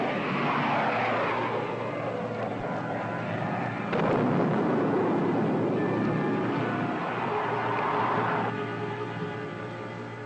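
Roaring rocket and blast effects rumble through a retro sci-fi serial battle scene, a sustained loud whoosh with a sharper burst midway and tonal hums riding on top, with no talk.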